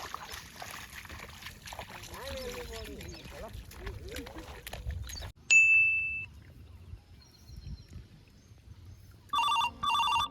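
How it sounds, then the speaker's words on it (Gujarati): A phone ringing, heard as a bright electronic ringtone burst that sounds twice after a stretch of outdoor talk and background noise, fairly loud and close. "ઓ તો માલે ફોન આવ્યો"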